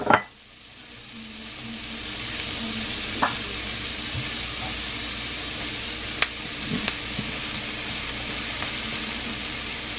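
Bitter gourd (ampalaya) slices drop into a hot pan with a sharp hiss, then settle into a steady sizzle of frying, with a few soft clinks and stirs of the utensil against the pan.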